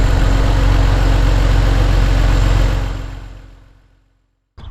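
A 1999 BMW Z3 2.8 roadster engine idles steadily with an even low hum, then fades away before a brief sound returns at the very end.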